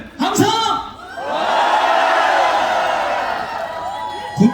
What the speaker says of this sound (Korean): 관광객 여러분들 함성!